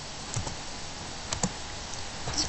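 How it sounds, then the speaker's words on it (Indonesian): Someone types a showmount command on a computer keyboard, a few sparse, distinct key taps spread across the moment with short pauses between them, close and moderately loud, with no talking. "kita ketik showmon"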